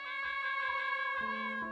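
Cat in the Final Quest video game giving a loud, sustained, whiny meow with a shrill, screaming tone, with the pitch dropping near the end.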